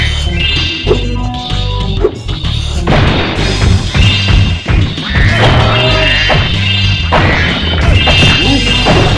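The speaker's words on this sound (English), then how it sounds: "it'd be really cool if you smashed that boulder" Spyro smashing a boulder in Spyro 3: Year of the Dragon on PS1, loud crashing and thudding impacts mixed into busy game music and effects.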